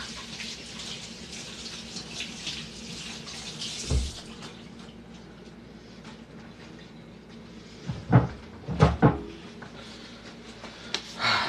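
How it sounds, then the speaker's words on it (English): A kitchen faucet runs as hands are rinsed, a steady hiss of water with a few louder splashes and clunks near the end, close by and with no voices. "Rinse these hands off again."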